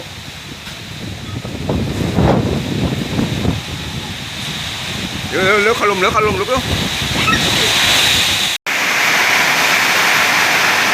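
Summer storm wind and rain roar over a durian orchard in a loud, broad continuous rush that swells and buffets, while someone talks urgently over it.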